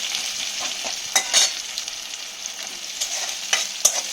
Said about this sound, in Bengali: এই তরকারিটাতে আমি কিন্তু পেঁয়াজটা খুব বেশি লাল করে ভাজবো না